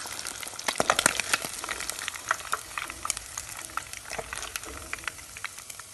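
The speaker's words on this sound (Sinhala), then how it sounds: "ඉතින් මම තෙල් එකෙන් මෙන්න මේ විදිහට පා ගන්නවා" Village tank fish fries in hot oil in a continuous close sizzle, with dense crackling pops and spatter that stay steady throughout.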